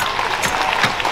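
Brief burst of audience clapping at a closing ceremony of a circus and brass band weekend, loud and close, a steady patter lasting about a second.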